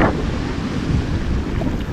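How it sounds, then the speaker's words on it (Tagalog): Heavy surf roars continuously at Dahican beach in Mati, Davao Oriental, with strong northeast monsoon wind buffeting the microphone, a dense wash of crashing ocean water. "Ang lalaki talaga ng mga alon"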